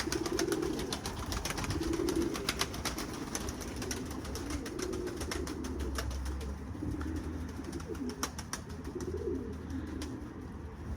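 Dede boz breed pigeons cooing steadily in an office loft, soft low coos repeating under a constant background hum, with faint rustling and occasional wing movement.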